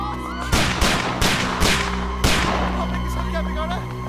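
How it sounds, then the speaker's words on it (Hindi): Several sharp gunshots crack in irregular succession over a droning background, each a loud sudden burst followed by a short ringing tail. "लगता है कोई गोली चला रहा है।"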